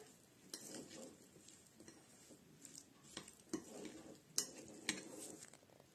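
A spoon stirs a cheese and tomato filling with mayonnaise in a bowl, giving soft, quiet scraping and a few sharper clinks against the dish, close by with no talking.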